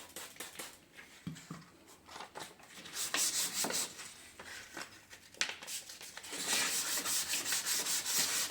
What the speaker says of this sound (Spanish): y lijamos en la forma todo lo contrario al cristal